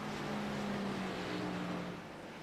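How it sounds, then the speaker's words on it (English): Race cars in a Nashville Xfinity Series race on a racing video game, with a steady engine drone holding a low pitched tone, close and continuous with no talk. "Hopefully you're hearing the cars"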